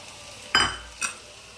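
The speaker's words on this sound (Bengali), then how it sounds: "ডিমের ভুজিয়াটা দিয়ে দিয়েছি, একটু নাড়িয়ে নেব।" Chow mein being stirred in a pan after fried egg bhujia is added, two short scraping stirs close by, the first louder with a brief sizzle, the second softer, over a quiet background.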